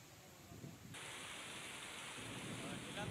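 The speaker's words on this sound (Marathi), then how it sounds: "आताही पावसाच्या रिपरिप या शहरामध्ये अनेक भागांमध्ये सुरू आहे" Light rain drizzles over Pune city as a steady, soft hiss that thickens about a second in and then continues evenly, faint and far-off.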